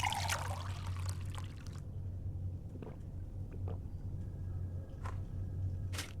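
Water poured to drink in the video game Indigo Prophecy: a trickling pour over a low rumbling background, followed by a few faint clicks and small sounds, with no talking.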